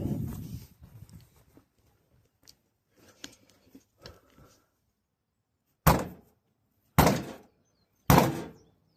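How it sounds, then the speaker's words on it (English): Three loud, separate bangs on a lawn mower tire as it is struck to re-seat the bead, each a sharp thud with a short decay, spaced about a second apart after some faint clatter and handling noise. "I'm gonna bang on the tire and see if I can make that re-bead."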